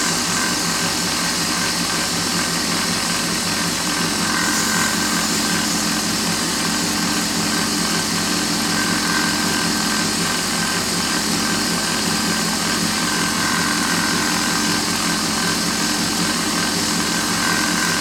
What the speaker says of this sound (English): I'm turning the lathe up to 3000.